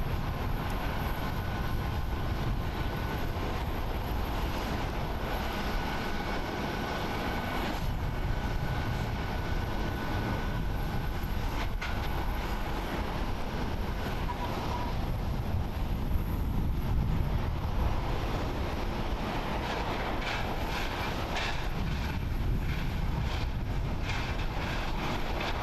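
An Airdo airliner at Haneda International Airport in Tokyo gives a continuous broad jet engine roar with a thin high whine, steady and fairly distant throughout, without speech.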